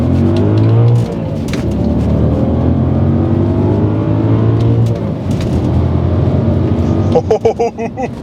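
An Audi B6 S4's 4.2-litre V8 accelerates hard, a loud, gravelly engine note climbing steadily through the revs for several seconds before easing off near the end.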